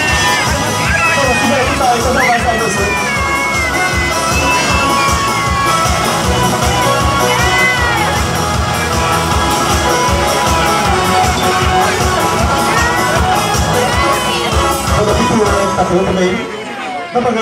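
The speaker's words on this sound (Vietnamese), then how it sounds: "Vỗ tay thật to nào cho cô dâu và chú rể trong buổi lễ thành hôn ngày" Loud crowd cheering and clapping for a bride and groom at a wedding ceremony in Hai Duong, Vietnam, a dense continuous roar of claps, whoops and shouts with babbling voices that holds steady for the whole stretch before cutting off at the end.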